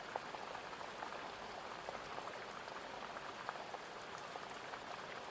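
Steady rain patters densely and evenly on a surface, a continuous soft hiss flecked with tiny droplet ticks and no voices.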